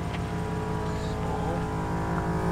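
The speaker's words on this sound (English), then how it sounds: "trying out the new compressor. New tire inflation system that I got." Steady engine-driven air compressor of a tire inflation system runs continuously up close, airing up all four tires after an off-road trail, a constant droning hum with no talk.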